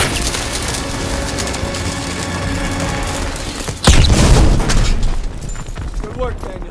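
A thermite charge goes off in Call of Duty WW2 during a D-Day battle: a sudden heavy boom at close range with a splintering crack and a rumbling tail, breaking over a steady din of combat and shouting voices.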